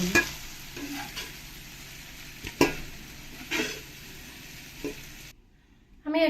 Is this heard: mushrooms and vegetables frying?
yes